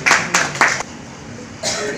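Audience at a press conference on demands for a Brahmin welfare board clapping in several short bursts, each about a quarter second, with a quiet pause before a final burst resumes.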